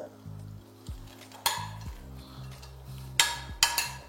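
Fried potato stirred into simmering chana paneer masala in a pot, with a few sharp utensil clinks against the pan over a low, steady bubbling sizzle; no one speaks.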